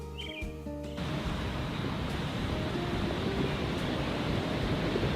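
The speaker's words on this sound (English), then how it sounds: "The sound of waves echoing against rock." Ocean surf washes continuously against a rocky shore along a misty West Coast trail of sea stacks and cedars, a steady broad roar after a brief quieter start.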